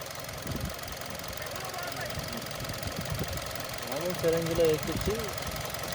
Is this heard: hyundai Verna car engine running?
yes